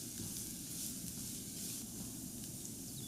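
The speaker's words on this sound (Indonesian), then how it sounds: "tambahkan 1-2 siung bawang putih yang udah dicincang halus. Tumis sampai harum dan agak sedikit kecoklatan" Finely minced garlic sautés in hot oil in a pan, giving a steady soft sizzle and hiss with faint bubbling crackles, close and even throughout, with no talking.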